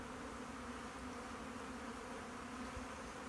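Honeybees hum around an open hive, a steady, even buzz that holds without a break, soft and close, with no voices over it.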